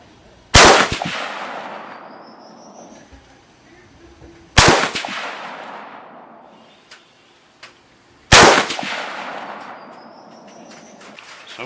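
Three loud 6.8 Western rifle shots firing ballistic silver tip loads, evenly spaced about four seconds apart, each sharp crack followed by a long echoing decay outdoors.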